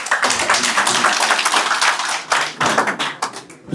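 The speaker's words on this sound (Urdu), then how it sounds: "زوردار تالیاں." Loud audience applause at a corporate construction company event, a dense continuous wash of many hands clapping close by, sustained with brief dips throughout.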